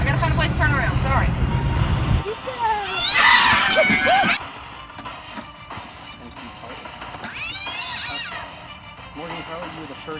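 A cat meows and caterwauls several times, loud and close, with people talking over it and a vehicle rumbling underneath.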